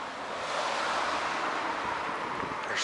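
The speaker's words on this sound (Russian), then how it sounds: "Подул какой-то ветер такой" Wind gusts roughly across the microphone in a steady rushing roar by a car park among new houses in Brest, loud and close, with no voices.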